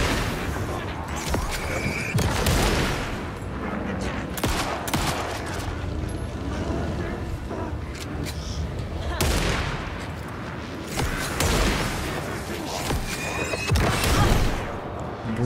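Gunfire and heavy impacts in the video game Alan Wake 2 come as scattered loud bangs and crashes amid dense, noisy action, with a voice talking over parts of it.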